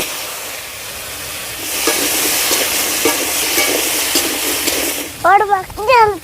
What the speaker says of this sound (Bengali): মাছ ভাজা তেলের মধ্যে সবজিগুলো দিয়ে দিচ্ছি।